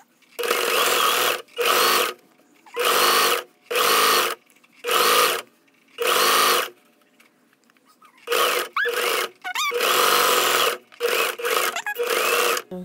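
Sewing machine fitted with a knit presser foot stitching fabric, running in a series of short whirring bursts separated by brief pauses, each burst a close, even mechanical hum with no talk over it.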